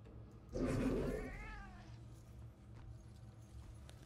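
A cat meows in the video game Murdered: Soul Suspect, a single drawn-out, rising then falling call up close, followed by quiet game ambience.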